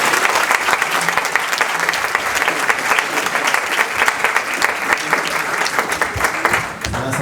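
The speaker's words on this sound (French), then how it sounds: "On va l'applaudir et l'encourager." Loud, sustained applause from a church congregation at a baptism service, a dense steady clatter of many hands that continues evenly before easing slightly at the end.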